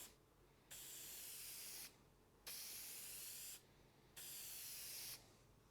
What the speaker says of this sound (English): spray a little bit over here just to get it to come out, and then I'll spray it across